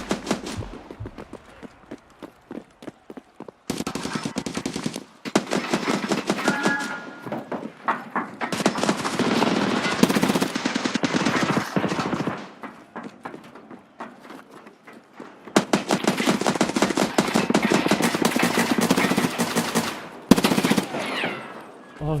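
Bursts of automatic gunfire in Escape from Tarkov ring out loud and close, rapid rattling volleys broken by short pauses across the whole stretch, with no talk over them.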